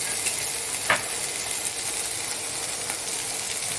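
Butter added to hot oil in a pan while making an omelet, giving a steady soft sizzle and hiss with a couple of brief clicks or stirs, heard alone without talk.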